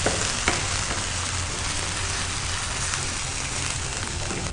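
Ginger garlic paste frying in hot oil in a pan, a steady, dense, loud sizzle that holds without a break and has occasional faint stirring scrapes.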